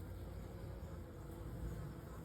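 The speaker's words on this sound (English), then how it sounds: "See how there's just bees?" Dense buzzing of many bees gathered in a bucket swarm trap, a continuous close hum with no pauses or voices.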